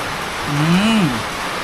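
Even, hissing patter of rain fills the brief moment, while a voice briefly rises over it in the middle.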